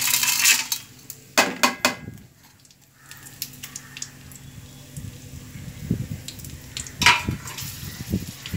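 Curry leaves, chana dal, urad dal, garlic and green chilli dropped into hot oil for tempering, giving a few sharp clinks and pops followed by steady soft sizzling frying, close by.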